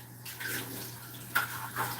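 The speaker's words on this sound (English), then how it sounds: "I don't scrub dishes. I do them right away, and no scrubbing." Tap water runs steadily into a kitchen sink during dishwashing, a continuous close hiss with a low steady hum beneath and brief splashy surges as dishes pass under the stream; no talking.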